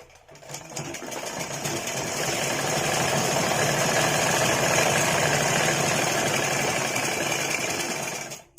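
A sewing machine stitches a choli cut blouse in one continuous run, its steady rapid whirring rising from a start, holding for several seconds, then stopping.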